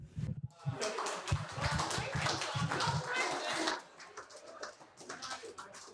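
Wedding guests clap for the bride's parents in a dense burst of applause, with voices talking over it; the clapping thins out and fades toward the end.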